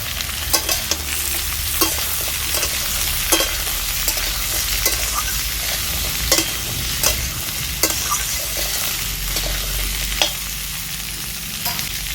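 Pumpkin with green chilli, salt, turmeric and sugar frying in a pan makes a continuous close sizzle, broken by regular scraping strokes of a spoon stirring it.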